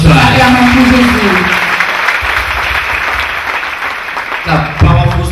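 Church congregation clapping for Jesus Christ during a deliverance service, a dense round of many hands filling the clip, with a voice speaking over it at the start and again at the end.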